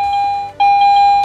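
A Garrett AT Pro metal detector gives a loud, close, high ringing tone that holds steadily, breaks briefly and then resumes, with no voice over it.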